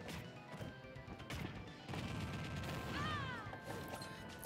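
An up smash attack lands in Super Smash Bros, a sharp, crunchy impact rising over the steady, busy din of game effects and background noise.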